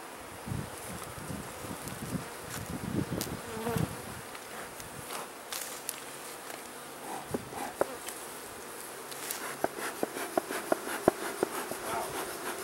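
Agitated honeybees buzz after being smoked during installation of a beginner's first nucs, a dense, steady hum up close, with scattered rustling and a few sharp clicks toward the end.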